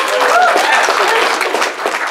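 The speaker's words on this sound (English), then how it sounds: "Give Fury a round of applause" Loud audience clapping continues through the whole moment, a thick wash of many hands, with a brief voice cutting in over it.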